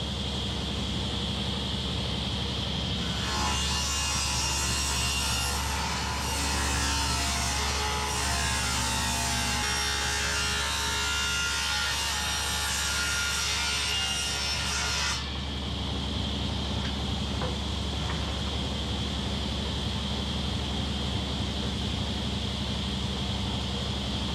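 A saw plunge-cuts into a 10-foot wooden board for a ceiling-hung shelf, a loud ragged grinding rasp lasting about twelve seconds that stops abruptly and leaves a steady motor hum running on alone.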